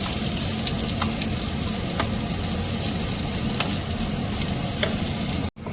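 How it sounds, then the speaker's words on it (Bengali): Chopped onions sizzle steadily in hot oil with cloves, cardamom and cinnamon, with faint stirring clicks throughout and a brief cut just before the end. "এবার একটু এগুলো ভাজা ভাজা করতে হবে।"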